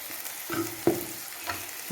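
Meat masala for a pork curry fries in a pan as a soft, quiet sizzle, broken by a few light stirring knocks and clinks against the pan.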